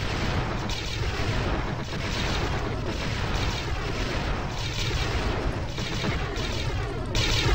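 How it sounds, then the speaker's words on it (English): Weapon fire aimed at the player's ship in the space combat game Privateer 2, a dense, steady barrage of booming shots under a constant hum, with no pause through the whole stretch. "Why is this guy shooting at me?"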